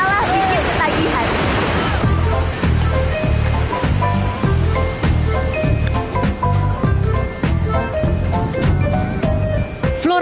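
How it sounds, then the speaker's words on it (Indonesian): Water rushes loudly and continuously over a FlowRider artificial surfing wave in Bali, a dense roaring surge with rhythmic pulses, with no talk heard. "Arus ombak disesuaikan dengan kemampuan peserta."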